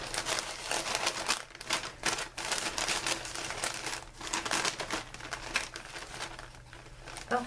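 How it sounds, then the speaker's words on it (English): Wrapping paper being folded and crinkled up close, with continuous dense crackling and rustling in bursts throughout, loud and steady with brief pauses between handling movements. "I'm gonna fold that now."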